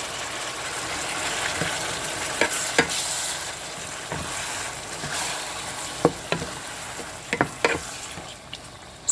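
Tomatoes sizzling in a pan for a marinara sauce with baked eggplant, a steady frying hiss with scattered sharp pops and crackles, close and alone.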